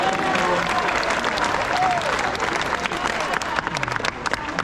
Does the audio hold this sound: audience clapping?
yes